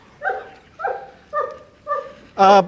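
A trained dog gives four short whining yips at an even pace, then a louder sharp bark, close by and clear, with no voices.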